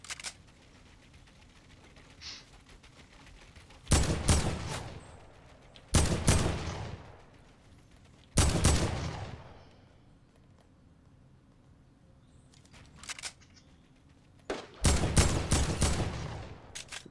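Gunfire in a Fortnite solo-squads match during an old-school build fight, with several sharp loud bursts and volleys separated by quieter gaps of a few seconds, no voices.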